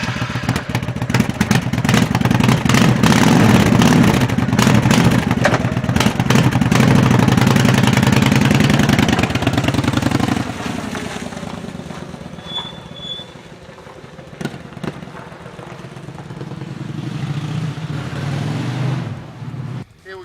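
A motorcycle sets off, its engine roaring loud and steady up close for about ten seconds, then dropping to a quieter running drone as the ride continues, with wind and road noise.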